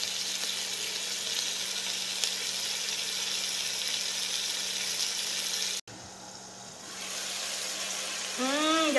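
Mushrooms sizzle and fry in a hot pan for fajitas, a steady loud hiss that briefly drops as they are stirred, then resumes at full strength.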